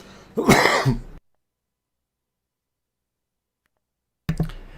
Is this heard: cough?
yes